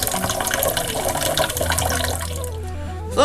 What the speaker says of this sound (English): I'm just going to let a stream of cold tap water run into this and let it overflow for about 5 minutes.